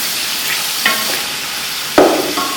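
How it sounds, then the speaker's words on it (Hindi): One kilogram of chicken frying in a pot for Sindhi biryani, giving a steady loud sizzle with two sharp clatters of a spoon against the pot partway through, and no voices. "अब इसके अंदर हम चिकन डालने लगे हैं। मेरा 1 किलो चिकन है। इसको अच्छी तरह भूनेंगे।"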